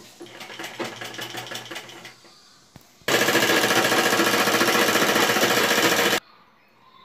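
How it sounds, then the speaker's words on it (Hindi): A sewing machine stitches along a fabric edge for a collar neck design, first in a slower rhythmic run, then after a brief pause in a loud, fast continuous burst that stops abruptly. "किनारी के से बिल्कुल सिलाई लगाते हुए ऐसे पूरे में सिलाई लगा लेंगे"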